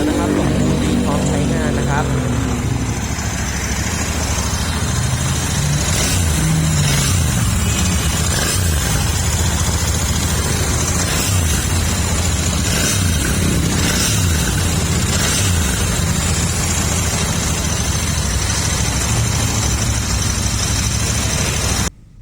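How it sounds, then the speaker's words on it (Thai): A 2020 Royal Enfield Interceptor 650 motorcycle with about 4,000 km runs at a steady idle, a loud continuous engine drone that holds for over twenty seconds with slight variations and no clear revving. "เดี๋ยวเรามาชมเลขไม้แล้วก็ฟังเสียงเครื่องยนต์คันนี้พร้อมๆ กันเ ลยนะครับ"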